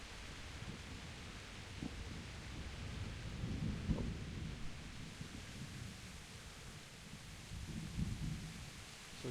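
Rain falls steadily during a thunderstorm in the video game Kingdom Come Deliverance, with low rumbles of thunder swelling and fading beneath a constant hiss, and a brief exclamation from a voice.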